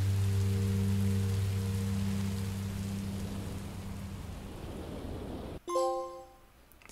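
Steady hiss of rain falling in Minecraft: Story Mode, with a low droning hum under it at first, then the rain carries on alone before cutting to a brief tonal chime.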